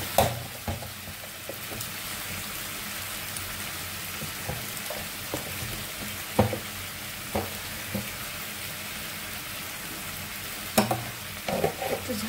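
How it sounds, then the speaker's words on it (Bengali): Ginger and garlic paste with salt and chilli powder fries in a pan, giving a steady close sizzle broken by occasional scraping stirs and clinks. "একটু আদা বাটা রসুন বাটা ভেজে নেব"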